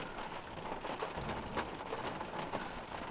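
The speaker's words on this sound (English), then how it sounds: "It is raining though. Like, I don't know if you can hear it." Rain falls steadily outside a grocery store, a faint continuous hiss and patter of drops with no voices.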